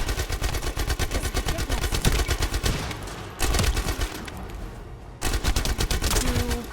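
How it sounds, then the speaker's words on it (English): Rapid, continuous beam rifle fire in the sci-fi shooter The First Descendant, a dense chattering stream of shots broken by two short pauses, loud and close with no talk. "This beam rifle doesn't have the greatest charge capability for, like, actual, like, capacity, but it is something."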